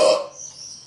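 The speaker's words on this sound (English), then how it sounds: "I will not stop burping for YouTube." A man lets out a short burp, loud at the start and then fading into a quieter, drawn-out tail, with no talking over it.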